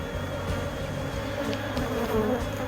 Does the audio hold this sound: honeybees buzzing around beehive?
yes